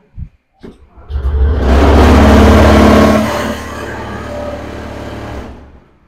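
A Honda Activa scooter cranks on its self-starter after a couple of short clicks, then fires and revs loudly up close before settling to a lower idle and cutting off.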